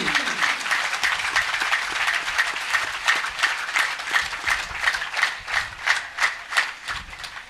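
An audience at a village religious discourse claps in rhythmic unison, the sharp, regular claps growing more distinct and evenly spaced toward the end, with no one speaking over them.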